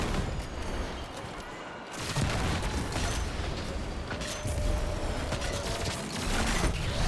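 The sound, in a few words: explosion in the video game Destiny 2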